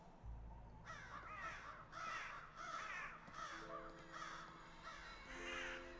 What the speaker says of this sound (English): Damned crows!